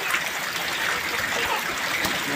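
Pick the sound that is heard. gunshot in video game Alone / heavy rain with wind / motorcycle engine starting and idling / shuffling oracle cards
heavy rain with wind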